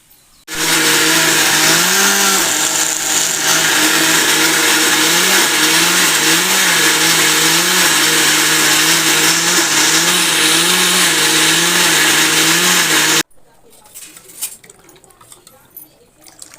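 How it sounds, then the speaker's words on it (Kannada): Kitchen mixer grinder running loud and close for about twelve seconds, a steady whirring motor with slight pitch wobbles, then cutting off abruptly to quiet room noise. "ಸೊ ಬನ್ನಿ ಇವಾಗ ಮಿಕ್ಸಿಗೆ ಹಾಕಿ ಗಿರ್ ಅನ್ಸೋಣ."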